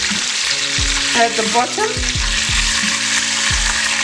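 Beef brisket frying in a pan, a loud continuous sizzle and crackle with a few low tonal hums and brief pops layered over it; a voice speaks briefly.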